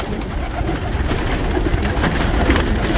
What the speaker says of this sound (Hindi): सब पटियाले कबूतर हैं